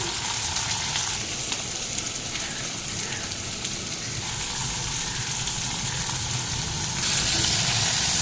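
Cabbage fries in a pan with a continuous, even hiss of sizzling at moderate volume, growing slightly louder near the end.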